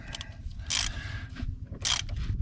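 A ratchet tightens brake caliper bolts on a front disc brake, its rapid clicking ratcheting running through the clip, with two louder bursts of metallic scraping clatter close by.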